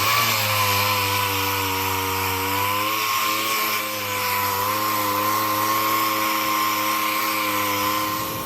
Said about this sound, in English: I'm gonna jump onto the 80 grit with the DA now